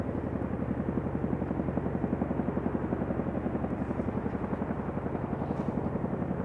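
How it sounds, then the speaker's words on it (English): Chinook helicopters hovering while lowering M777 howitzers during an Indian Air Force exercise, the rotors making a loud, steady, rapid thudding chop that stays close and constant throughout, with no talk. "see the Chinook helicopters lowering the M777 guns."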